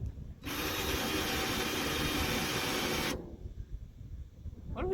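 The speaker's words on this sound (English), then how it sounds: "We're gonna go ahead and drill the next one." A power drill whines loudly for about three seconds while drilling into a wooden truck bed for a 1967 Dodge, starting and stopping abruptly, followed by quieter background noise.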